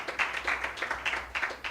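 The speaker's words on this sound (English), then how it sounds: "A round of applause for him again." A small seminar audience claps in a brief, uneven patter of hand claps, fairly close and modest in volume.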